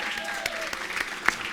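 Audience applause fills a tenant summit hall, a steady wash of clapping from a crowd with a speaker's voice carrying over it throughout.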